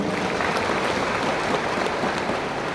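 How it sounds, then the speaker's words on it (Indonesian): A church congregation applauds during a worship service, dense continuous clapping filling the space at a steady level throughout, with no talk over it. "Tepuk tangan untuk Tuhan Yesus."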